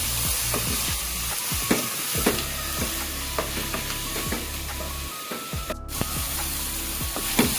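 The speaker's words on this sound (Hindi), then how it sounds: "जिंजर और ये ग्रीन चिली। ये सबको हम सॉटे कर लेंगे।" Ginger and green chili sauté in a hot pan, a continuous loud sizzle broken by repeated scraping stirs and spatula clicks, with no talking.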